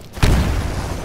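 A grenade detonates in the shooter game Titanfall, a single sudden low boom that lingers as a rumbling tail for the rest of the moment, close and fairly loud.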